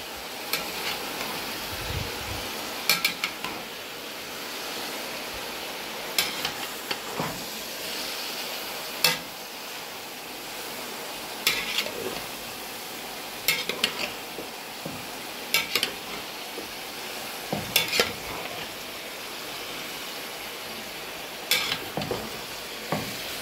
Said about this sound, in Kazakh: Сәбізімді де жақсылап қуыра бастаймын.